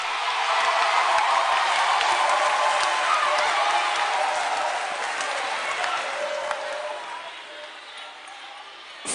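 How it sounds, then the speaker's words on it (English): A large audience at a televised talent show for kids breaks into sustained, dense applause with cheering for a young performer, a loud wash of clapping that gradually thins and softens toward the end. "I think he deserves another round of applause"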